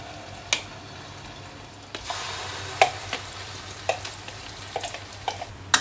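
Chili sambal paste frying and stirred in the oil left from frying anchovies over medium-low heat, a steady soft sizzle with scattered scrapes and taps of a spatula against the pan, close and without talk.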